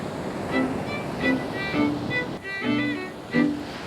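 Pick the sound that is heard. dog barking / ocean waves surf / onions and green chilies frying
ocean waves surf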